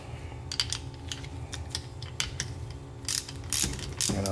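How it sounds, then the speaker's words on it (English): A ratchet tightens a new 14 mm nut and washer onto the stud of a Toyota 4Runner starter. The clicking comes in quick bursts, close and fairly quiet, over a low steady hum in the background. "The washer, and then the new nut. And then just tighten it all up, 14 millimeter."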